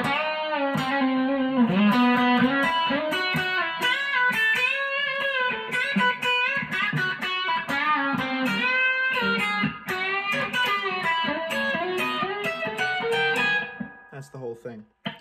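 Electric guitar plays a lead solo with an effects-tinged, lightly distorted tone, a fast run of bends and chromatic walk-ups heard loud and alone before stopping abruptly near the end.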